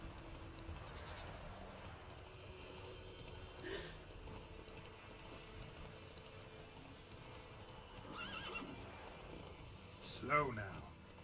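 Roach, Geralt's horse in The Witcher 3, gives one short neigh near the end, rising above steady game ambience, with faint talk in the background.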